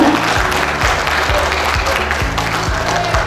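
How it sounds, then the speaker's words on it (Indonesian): An audience at a book launch claps together in a thick, continuous wash of applause, with a low rhythmic thumping underneath that holds steady throughout. "Ini tepuk tangan semua ini berarti siap ini."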